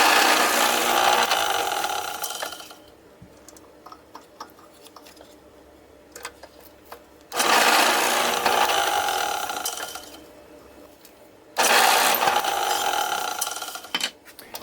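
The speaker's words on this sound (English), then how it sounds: "So I've got a piece of tape to mark the depth that I need to drill to, and we'll drill out these 6 holes." Drill press with a 3/8 inch bit boring screw holes into a wooden miter saw insert, three separate loud whirring bursts of several seconds each, separated by quieter gaps with light clicks.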